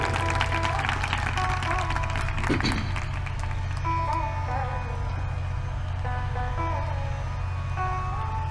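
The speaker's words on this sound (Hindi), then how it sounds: "एक बार फिर जोरदार तालियों से स्वागत करेंगे।" A large audience at a Hindu religious discourse on Makar Sankranti claps in a steady, continuous wave of applause, sustained and fairly loud throughout, with faint musical tones beneath.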